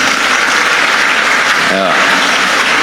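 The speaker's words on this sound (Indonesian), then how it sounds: "Tepuk tangan buat Raka." A room full of students claps in a steady, dense burst of applause, with a short spoken word cutting through midway.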